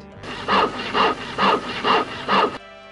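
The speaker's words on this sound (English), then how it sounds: "First, I tried to saw it." Five steady saw strokes rasp back and forth through ultra-high-strength boron steel from a Ford Fiesta, loud and close, each stroke a harsh grinding pass with short gaps between.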